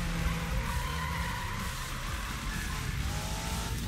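Racing car in the Need for Speed video game accelerating hard, a loud continuous engine roar with rising pitch and a hint of tire squeal, steady and close, with no talk over it.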